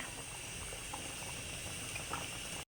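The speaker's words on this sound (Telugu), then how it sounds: "ఇదిగోండి ఇలా ఉడికిపోతుంది అనమాట" Moong dal (pesara pappu) boiling in a pot, a continuous close bubbling hiss with soft pops, alone and steady until it cuts off.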